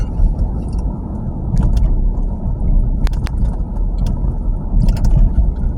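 A mail truck engine idling close by, a loud steady low rumble with a few faint metallic clinks and jingles on top, no voices.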